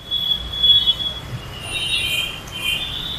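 A metro train rumbles past near Aarey metro station in Mumbai with a high, drawn-out squeal of wheels on rails, loud and close, with no talking.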